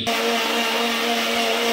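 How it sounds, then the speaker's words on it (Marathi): A kitchen mixer blender whirs steadily at night while blending a banana smoothie, a loud constant motor whine with a strong hum and no pauses. "रात्रीचे 11:15 वाजतात आणि आमच्या घरी मिक्सर चालतोय."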